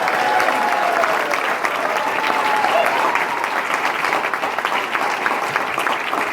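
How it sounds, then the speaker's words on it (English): Audience applause at a public lands rally in Taos, a dense, sustained roar of many hands clapping, steady and loud throughout, with faint cheering mixed in. "How about a big round of applause for Rio Grande del Norte National Monument?"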